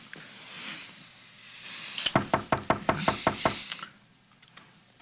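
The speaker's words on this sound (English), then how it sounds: "Did you hear that knocking?" About eight firm, evenly spaced knocks on a door in a TV drama scene, close and loud, following quiet room ambience and fading back to it.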